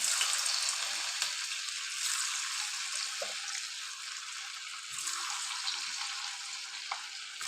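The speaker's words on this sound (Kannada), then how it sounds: "ನೆಕ್ಸ್ಟ್ ಕರಿಯೋಣ ಬನ್ನಿ. ಒಂದೊಂದು ಈ ಥರ ಹಾಕಬೇಕು." Hal garige, a milk snack, sizzles and crackles continuously in hot oil, a close, steady frying hiss with a few soft clinks of a utensil; no talking.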